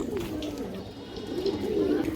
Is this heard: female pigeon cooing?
yes